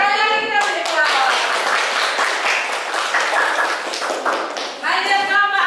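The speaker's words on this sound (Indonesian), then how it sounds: "Sekali lagi kita beri aplaus." An audience claps together in a loud, dense burst of applause that lasts several seconds, with voices briefly audible at the start and end.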